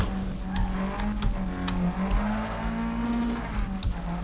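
An Audi in NFS Underground 2 drifting, its engine holding a steady loud drone while tires squeal and skid in short bursts, no talk over it.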